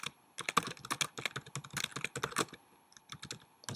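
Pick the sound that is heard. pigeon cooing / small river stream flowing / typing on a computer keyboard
typing on a computer keyboard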